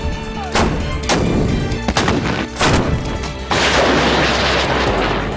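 Heavy artillery guns of an army artillery unit fire in several loud, booming blasts spaced about a second apart, followed by a sustained roar and rumble of continued firing.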